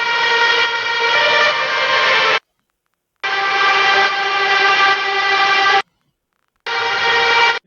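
A sustained guitar layer in a melodic dubstep track comes in three loud, even blocks separated by short silent gaps, each with a bright, steady harmonic drone.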